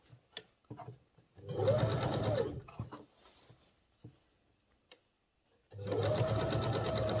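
A sewing machine sews a collar seam in two loud bursts of fast, even stitching, separated by quiet gaps with faint handling clicks and fabric shuffling.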